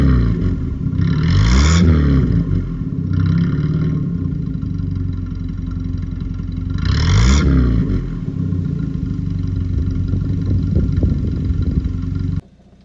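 A 1960s Standard Ensign Deluxe Estate, a rare British classic car, idles with a smooth, steady engine note heard up close, swelling with two brief revs before settling back and cutting off at the end.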